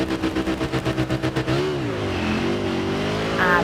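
A motorcycle engine in the video game Ride 6 revs in rapid pulses, then settles into a steady, rising whine with shifting pitch, loud and close, no talking.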